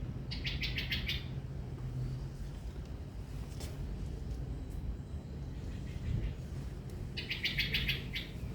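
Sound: birds singing near a house with many trees

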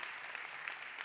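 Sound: applause at a demo day

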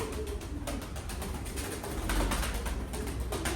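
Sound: pigeons cooing

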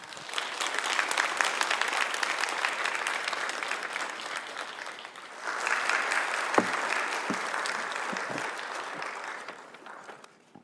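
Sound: audience applause welcoming a speaker

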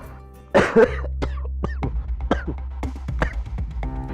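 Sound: coughing

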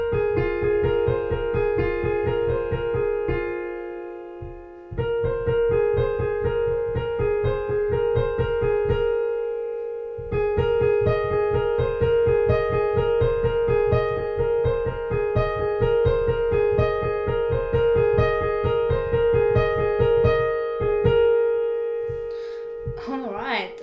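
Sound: piano right hand part of a piece

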